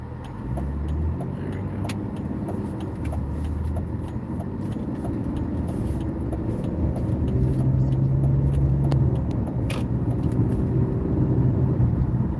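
A car driving in slow traffic, with a steady low engine and road rumble, occasional clicks and rattles inside the cabin, and a sustained low tone near the end, continuous and close with no clear speech.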